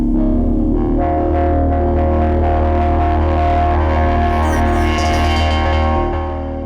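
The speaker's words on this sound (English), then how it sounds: "There's this thing where it talks, like the synth can talk." A heavily processed, distorted Arturia MiniFreak synthesizer talking vocal patch with sustained harmonics and robotic, voice-like formant shifts, slowed and droning, loud and close.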